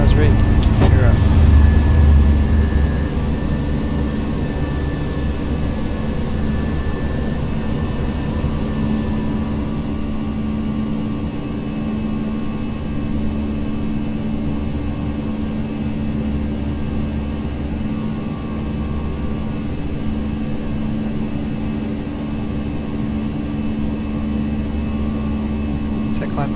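Airbus A319 jet engines at climb thrust after takeoff in the X-Plane flight simulator, a steady loud roar with a low rumble and a faint high whine, with cockpit voices talking over it.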